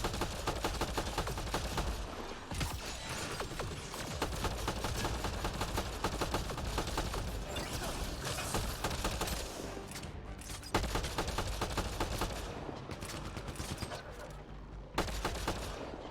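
Dense, continuous shotgun and weapon fire in Mass Effect: Andromeda, booming blasts layered over a busy combat soundscape for the whole stretch, with a voice occasionally heard beneath.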